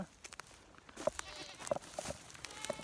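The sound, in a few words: goats bleating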